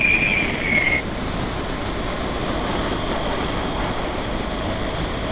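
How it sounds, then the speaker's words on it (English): Wind roars past a rider on a BMW 1200GS motorbike crossing a mountain pass, a loud, steady broadband rush with a brief whistling tone at the start. "Oh, you can hear that wind now."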